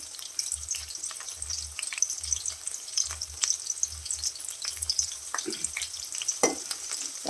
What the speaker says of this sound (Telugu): ఇవన్నీ వేసుకుని పోపు వేసుకున్నామండి